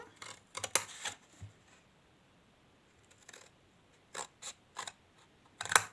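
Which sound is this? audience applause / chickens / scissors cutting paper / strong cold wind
scissors cutting paper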